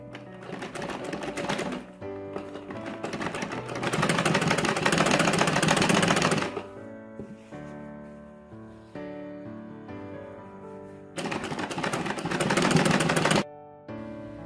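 Sewing machine stitching the waistband of a school uniform skirt during a tailoring lesson, running in loud steady bursts of a couple to several seconds with quieter pauses between.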